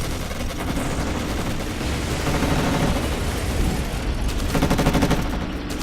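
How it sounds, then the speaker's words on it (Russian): Dense battle gunfire in the war strategy game Codename: Panzer Phase One during fighting in Berlin, with a continuous loud rattle of shots and bursts. "По нас стреляют!"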